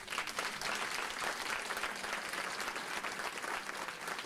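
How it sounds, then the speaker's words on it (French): A church congregation applauds steadily, a dense, even patter of many hands sustained for several seconds at a moderate distance. "j'aimerais qu'on les applaudisse"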